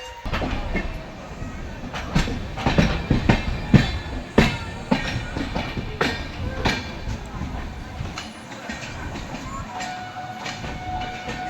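A sleeper-class passenger train on the Kolkata to Kashmir route rumbles steadily along the tracks near Lucknow with rhythmic clacks and bumps over rail joints, heard from inside, loud and continuous.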